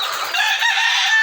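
RTL second-layer laying hens call loudly and close by in a short burst of clucking, with the sound held steady for just over a second.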